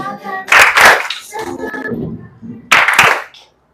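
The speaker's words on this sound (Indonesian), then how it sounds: "Bertepuk tangan." Group of schoolchildren clapping hands in a classroom, two loud bursts of rapid applause-like clapping separated by a quieter stretch with brief tapping, fairly close and fading out at the end.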